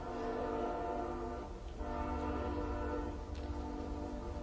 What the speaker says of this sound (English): we got 30 seconds for the train, you know